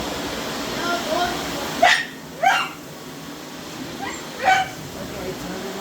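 A dog in a house yips and barks in a few short, sharp bursts mixed with high whimpering, fairly close, over a steady background hum.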